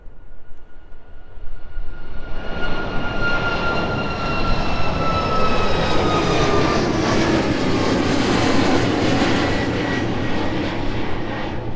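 An aircraft takes off from runway 27 at East Midlands Airport, its engine roar swelling loud and close, then holding as a steady, powerful rumble with a whine on top as it climbs away.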